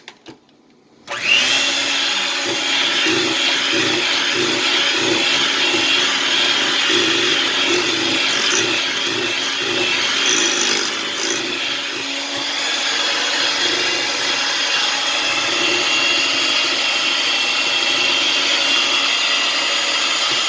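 An electric mixer runs steadily as almond and vanilla extract are beaten into cream cheese pound cake batter. It starts abruptly, then holds a loud, continuous whirring drone with a faint rhythmic churning underneath, and nobody speaks.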